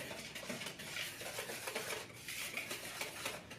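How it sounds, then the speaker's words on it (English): Brisk, steady whisking of flour and salt together in a bowl while making pizza dough, a continuous scratchy rustle with rhythmic clinks of the whisk against the bowl, close and alone. "Just going to add that to the top and then whisk it so that it's all combined thoroughly."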